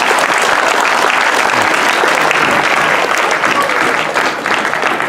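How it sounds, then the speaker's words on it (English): Dense, steady applause from a crowd at a Sri Lakshmi Narayan Kalyanam temple celebration fills the whole stretch, loud and sustained with no pauses. "Our Sagarji, give him a big applause."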